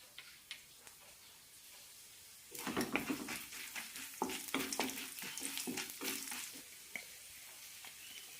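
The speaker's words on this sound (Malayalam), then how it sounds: "രണ്ട് ടീസ്പൂൺ എണ്ണ വെച്ചിട്ടുണ്ട് ഇതിലേക്ക് ഉഴുന്നും കടലപ്പരിപ്പും ഇടാം" Urad dal, chana dal and cumin hit two teaspoons of hot oil for an ash gourd chutney, a quiet start giving way to a sudden sizzle with crackling pops and light stirring, close and unaccompanied.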